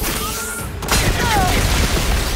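A video game explosion in Horizon Forbidden West: a sharp burst followed by a sustained rumbling, crackling roar with whooshing tones, loud and close.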